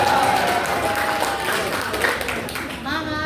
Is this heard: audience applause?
yes